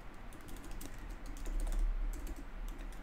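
Contact details typed on a computer keyboard, quick soft key clicks in an irregular rhythm, fairly faint over a low background hum, with no talking.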